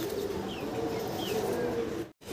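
Pigeons kept at a loft coo softly in low, steady murmurs, with a faint chirp or two over a continuous background hum; nearby and moderate, no speech, ending in a brief dropout.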